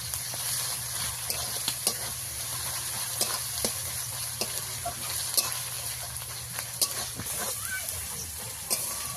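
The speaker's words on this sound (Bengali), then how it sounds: "এবারে রসুন আর পেঁয়াজ একসঙ্গে একটু ভেজে নেব।" Garlic, onion, ginger paste and slit green chilies frying in a pan for a village-style country chicken curry, a soft steady sizzle with occasional stirring clicks, no talking.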